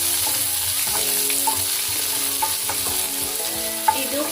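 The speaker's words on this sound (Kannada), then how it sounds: "ಚಿಲ್ಲಿ ಮತ್ತು ಆನಿಯನ್ ಎರಡನ್ನೂ ಹಾಕ್ತೀನಿ. ಇದನ್ನು ರೋಸ್ಟ್ ಮಾಡ್ಕೊಳ್ಳೋಣ." Chili and onion fry in a pan for a chicken dry dish with a steady, close sizzle, punctuated by a few light scrapes and taps of a spoon stirring.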